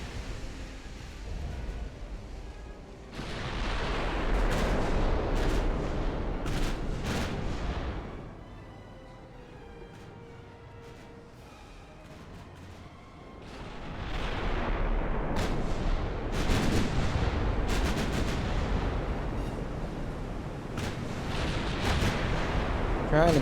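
Battleship main guns firing in the naval game Ultimate Admiral: Dreadnoughts, heavy booming salvos that roll in long loud waves, with a quieter lull between them.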